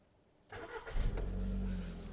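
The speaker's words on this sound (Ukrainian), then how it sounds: "Мотор заводиться з півтику, не димить, не труїть" After a moment of quiet, a starter whirs and a 2008 Volkswagen Golf Plus 1.6 MPI engine fires almost at once, revving briefly before settling into a loud, steady idle nearby.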